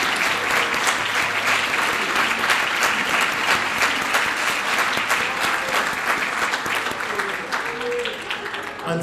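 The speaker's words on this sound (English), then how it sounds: "Let's have a round of applause for our Freshman All-Region." Audience at a high school band banquet applauds steadily for the freshman All-Region band students, a dense, sustained wash of clapping that holds for the whole stretch and thins slightly near the end.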